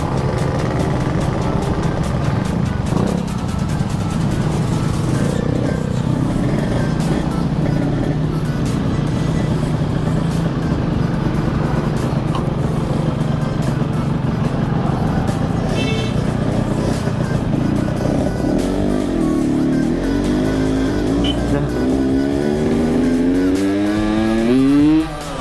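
A Yamaha RX King two-stroke motorcycle engine revving loudly and close, holding a sustained buzzing roar for a long stretch before rising and falling blips near the end.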